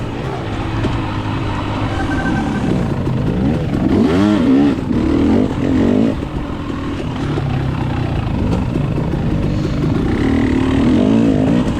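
A dirt bike engine races in a dusty, tight woods hare scramble, revving up and down continuously and loud up close, with rising and falling pitch as the rider accelerates and brakes.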